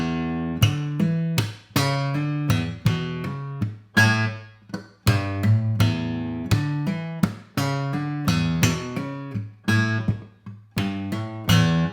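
A simplified guitar part is played on its own: a steady run of bright, ringing plucked notes and chords in a brisk rhythm, close and clear, with no voices.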